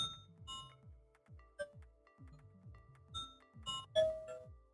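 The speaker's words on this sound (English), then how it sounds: "here we change chimes" A wireless Wi-Fi video doorbell's receiver plays through its selectable chime tones, a rapid run of bright ding-dong notes and bell-like strikes that overlap and ring on together in a quiet room.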